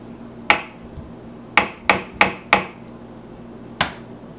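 Eggs cracked one at a time against a hard edge while assembling a cake: six sharp, separate knocks, a lone one, then a quick run of four, then a final one after a pause, fairly close with a faint background hum.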